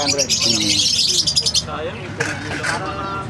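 Green and other Opaline parrots chatter and chirp in cages at a busy pet market in Obando, a burst of bright close calls followed by fainter scattered tweets, with people talking in the background.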